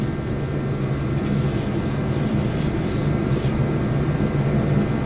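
Block sanding of body filler with 320 grit sandpaper on auto bodywork, a steady, continuous rasping rub that holds an even loudness throughout with no one talking.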